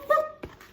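A short, soft dog vocalization, a brief whimpering yip followed by a quick second burst, heard close and fairly quiet within under a second.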